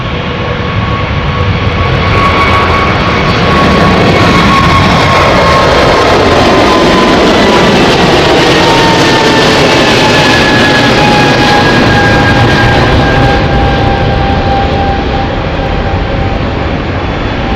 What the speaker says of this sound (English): The Milan flight now taking off